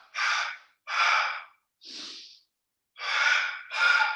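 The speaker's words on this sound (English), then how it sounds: "It's double exhale out the mouth." Breathy exhales out the mouth during a slow hatha yoga hip mobility class, five close audible breaths in pairs with short pauses between, with no other sound.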